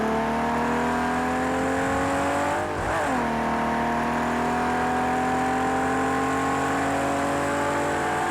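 A Ferrari accelerates hard on a race track, its engine note climbing steadily in pitch through the gears. Partway through there is a brief dip and shift before the loud, close, sustained roar builds again.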